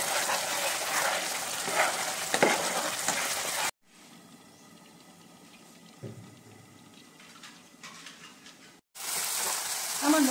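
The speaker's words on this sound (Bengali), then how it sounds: "এইভাবে আমি নাড়তে থাকবো।" Masala frying with sugar and salt in a pan for a roasted cauliflower gravy, with close sizzling and stirring scrapes that drop to a quieter simmer midway and then return at full strength.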